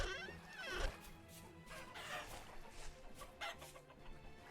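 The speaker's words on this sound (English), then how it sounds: "there goes a chicken. Would have been a fine chicken to add to our collection." A chicken clucks in the survival-crafting game Vintage Story, giving a few short, moderately loud clucks and squawks near the start, then softer scattered clucking over a low background.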